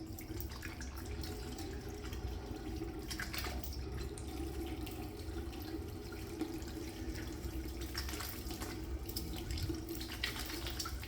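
Tap water runs steadily into a sink while a razor is rinsed under it, a continuous close splashing flow with faint clinks, no talking.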